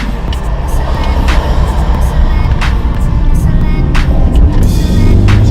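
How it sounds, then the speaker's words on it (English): Cars rush past in traffic, making a steady roar with several louder passes at irregular intervals, heard close and fairly loud with no voices over it. "I know it's like cars running around"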